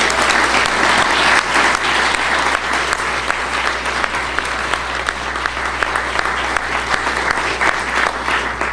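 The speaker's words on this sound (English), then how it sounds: "offer them a round of applause for their contribution." An audience at a cooperative development forum gives a panel discussion sustained applause, a dense, steady clapping that fills the room for several seconds.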